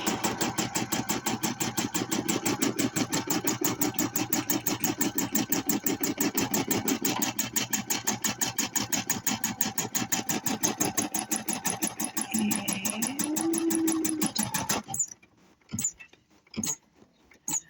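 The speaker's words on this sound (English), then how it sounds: "And then just come over here and start sewing." A machine embroidery unit stitches a basting line around fabric on stabilizer, a fast steady needle chatter that runs close and loud for about fifteen seconds, then stops, leaving a few faint clicks.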